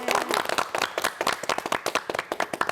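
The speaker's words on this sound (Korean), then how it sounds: "박수로 맞이해주세요" Studio audience on a Korean morning talk show claps to welcome an instructor, the claps sharp and separate, fairly quick and a little uneven. A brief voice is heard at the very start.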